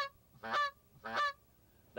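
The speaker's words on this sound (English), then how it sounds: "First, the hailing call, the short kronk," A goose call blown in the short kronk hailing call gives two loud, honking notes about half a second apart, with the start of a third at the very end.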